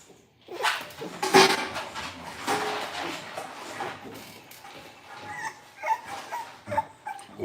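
A dog whimpers and snuffles nearby, with raspy, labored breaths and small yips at uneven intervals. Nobody speaks.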